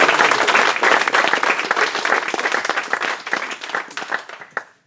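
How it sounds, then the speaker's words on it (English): A crowd at a hobby league awards final breaks into loud, dense applause, a continuous roar of clapping that holds strong for about four seconds before quickly dying away. "Another round of applause, guys"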